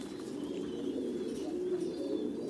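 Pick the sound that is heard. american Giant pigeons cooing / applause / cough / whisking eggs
american Giant pigeons cooing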